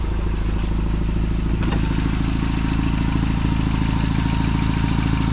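An engine with oil in the combustion chamber idles steadily and close by, a constant low rhythmic rumble with a faint clatter and no one speaking.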